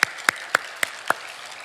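Five sharp, evenly spaced claps ring out in steady unison from a church congregation, each crisp and distinct with brief gaps between.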